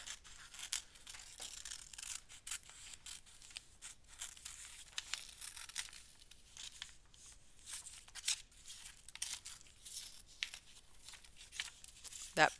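Scissors cut a paper picture out for a junk journal, giving a steady run of quiet, close snips and paper rustles that continue without a break.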